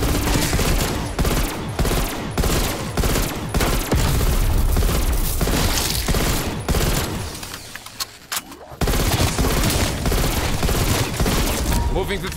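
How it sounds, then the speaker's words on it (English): A War Machine launcher fires in Cold War Zombies, with rapid, loud repeated blasts in dense bursts. The barrage pauses briefly, then resumes amid heavy game action. "Firing war machine."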